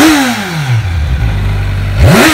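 The engine of a Kawasaki Ninja 1000SX sport motorcycle is revved hard up close: the pitch drops as the revs fall back to a steady idle, then jumps sharply in a fresh rising blip at the end, loud and alone.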